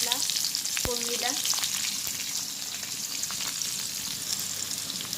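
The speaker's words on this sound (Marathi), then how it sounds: "कांदा घातला फोडणीला." Onion sizzling in hot oil with bay leaf as tempering for a dry chicken dish, a steady close frying hiss throughout with a brief stir clatter near the start.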